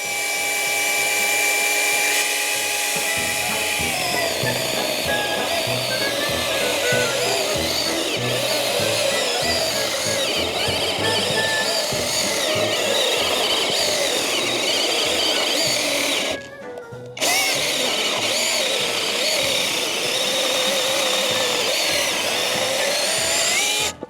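A Grosser GCS 851 cordless mini chainsaw whines at high speed while cutting into thicker wood, the motor pitch sagging under load, stopping briefly, then resuming its strained buzzing cut.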